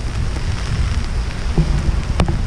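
Heavy rain from Hurricane Elsa falls in a steady, dense wash, with gusting wind and a few louder bursts late on. There is no talking.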